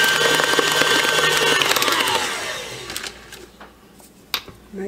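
An electric mixer creaming eggs into chocolate pie batter, whirring loud and close, then winding down with a falling pitch and stopping, followed by a few clinks.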